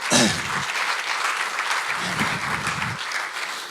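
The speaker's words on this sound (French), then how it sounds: "je pense qu'on les applaudit très fort" An audience at a talk applauds loudly, a dense wash of clapping that holds steady for a few seconds.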